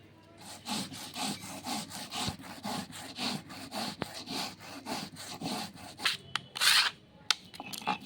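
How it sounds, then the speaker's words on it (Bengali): Atap rice being ground by hand on a stone for pakora batter, a steady rhythmic rasping scrape repeating back and forth at close range, with a few sharper knocks near the end. "এখন আমি বেটে নেব আতপ চাল"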